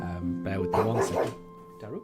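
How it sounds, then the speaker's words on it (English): A pet dog barks and yips indoors in short bursts, close by, mixed in with someone talking over it before and after the barks. "I apologise for the barking just there"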